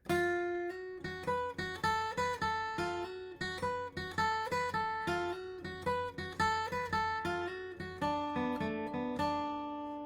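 An acoustic guitar picks out the bright melody of "Black Mountain Rag" with plucked notes in a steady rhythm over bass notes, close and clear with no voices.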